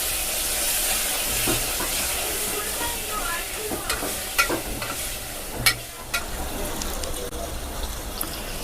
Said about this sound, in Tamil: இப்போ தக்காளியை போட்டுக்குவோம் இதையும் நல்லா வதக்கிக்குவோம்